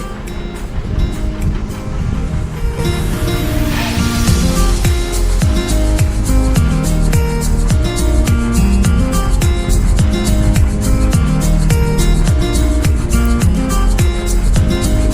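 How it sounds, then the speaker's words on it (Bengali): Wind-driven waves roll and splash continuously on Bhatrar Bil, a large lake swollen with high water, loud and close with strong wind buffeting the microphone throughout. "ঢেউগুলো এত সুন্দর লাগছিল প্রায় সমুদ্রের মতো দেখতে লাগছিল"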